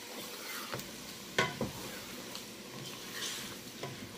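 Chicken karahi with lemon juice and green chilies is stirred in a pan, quiet sizzling with a few distinct scraping and clinking strokes of the spoon.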